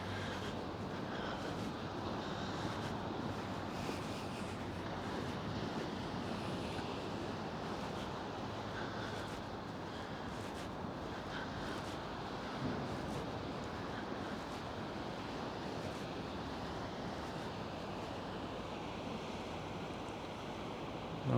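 Big waves crash on rocks in the distance at Paguera, Mallorca, a steady broadband roar of surf mixed with wind buffeting the microphone, continuous and fairly even throughout with no talking.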